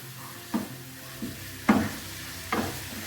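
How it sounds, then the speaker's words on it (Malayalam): Chicken thoran masala sizzles in a pan while a spoon stirs it in four distinct scraping strokes, each with a short rattling burst over a steady frying hiss. "എല്ലാം മസാല എല്ലാം വരാൻ വേണ്ടി നല്ലോണം ഒന്ന് ഇളക്കി കൊടുക്കണം കേട്ടോ."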